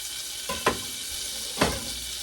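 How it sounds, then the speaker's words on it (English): Bacon strips, cut into quarters, frying in a pan, giving a steady broadband sizzle with two sharp scraping or clatter accents from handling in the pan, close and alone without talk. "Let the bacon go and start cooking first"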